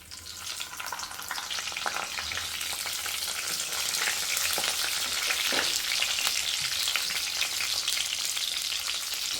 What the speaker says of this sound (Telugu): ఇప్పుడు బ్రింజాల్ని అయితే ఇలా 4 పీసెస్గా కట్ చేసుకున్నవి ఇందులోకి యాడ్ చేసుకున్నాం.